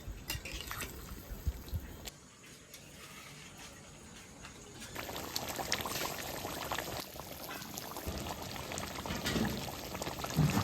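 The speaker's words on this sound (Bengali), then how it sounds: "এবার আমি জল দিয়ে দেবো।" Water pours into a pot of braised country chicken curry, a sustained splashing and gurgling that swells louder over several seconds, close by.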